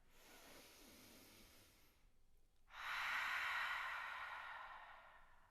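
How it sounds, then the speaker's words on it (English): A slow, deep inhale drawn in through the nose during a yoga flow, a soft airy hiss that swells and fades over a few seconds after a brief quieter breath, close and alone with no talk. "Take an inhale through the nose"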